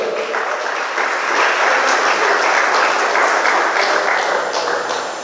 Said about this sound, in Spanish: Hay alguien que puede dar un fuerte aplauso al Señor como ofrenda